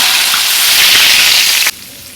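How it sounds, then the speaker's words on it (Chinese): Hot oil is poured over boiled pork slices topped with minced garlic, chopped chili and chili powder, giving a loud, dense crackling sizzle that runs steadily, then drops abruptly to a faint hiss. "倒上热油"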